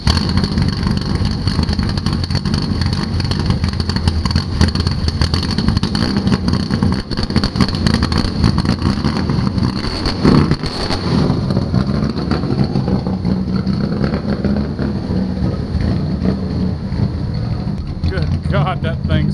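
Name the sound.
Chevrolet Biscayne hot rod engine started and running loudly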